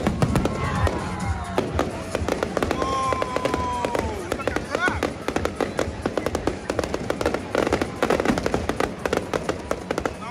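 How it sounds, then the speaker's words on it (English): Rapid bursts of fireworks crackle and bang continuously, sharp repeated pops with some louder whistles, while voices and a crowd murmur underneath. "let's go to the fireworks night"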